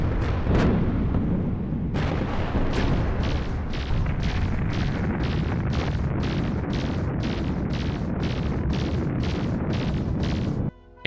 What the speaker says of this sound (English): Time for dramatic explosion.